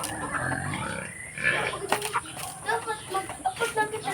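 Backyard heritage chickens cluck and squawk near and fairly loud in uneven bursts, mixed with agitated voices talking over them.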